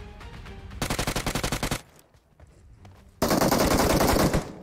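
Rapid automatic gunfire in a video game shootout: a fast burst of repeated shots, a brief lull, then a second dense, loud volley, with no talk over it.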